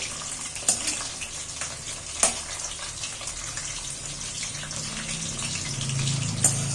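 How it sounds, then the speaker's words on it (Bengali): Potatoes fry in hot oil with a steady, close sizzle throughout, broken by a few sharp clinks of utensils against the pan. "আলুগুলোকে ঠিক একইভাবে ভেজে নিচ্ছি"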